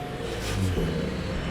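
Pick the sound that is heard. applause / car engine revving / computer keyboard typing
car engine revving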